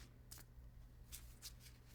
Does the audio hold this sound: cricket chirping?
no